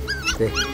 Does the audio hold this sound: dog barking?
yes